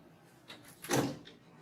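A Hawa Folding Concepta sliding folding door is moved along its track, giving a soft rolling swish that swells to a brief louder rumble near the middle, then fades; quiet and close, no talking.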